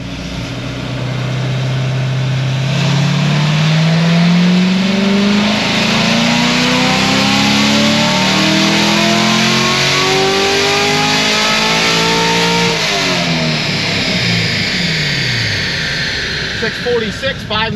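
A naturally aspirated LT1 V8 in a C7 Corvette Grand Sport revs up loud and close, its rising, sweeping engine note climbing steadily then dropping off, sustained for most of the stretch.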